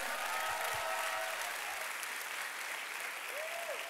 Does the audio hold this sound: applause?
yes